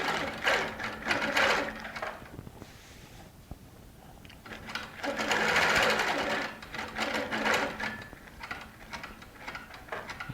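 A Baby Lock Regent sewing machine stitches in two loud bursts of rapid mechanical whirring, separated by a quieter pause.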